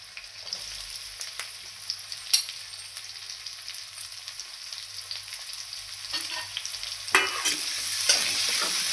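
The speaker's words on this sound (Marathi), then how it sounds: "कांदा लाल होईपर्यंत भाजून घेऊया।" Finely chopped onion fries in a pan for matki usal, a steady close sizzle with occasional spatula scrapes and clinks, growing busier toward the end.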